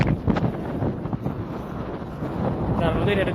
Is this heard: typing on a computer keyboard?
no